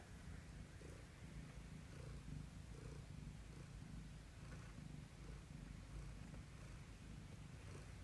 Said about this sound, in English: I can hear him purring from here.